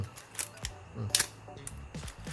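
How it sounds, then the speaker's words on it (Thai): Shutter of an Olympus OM-1 film camera firing at several speed settings, giving a few sharp mechanical clicks and clacks spaced across a quiet room, close to the microphone. "เดี๋ยวผมจะเอามาเทสสปีดชัตเตอร์ให้ดูนะ"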